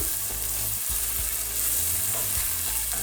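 Tomato paste fries and sizzles steadily in olive oil in a hot pan while a utensil stirs and scrapes through it, close up, with no voices.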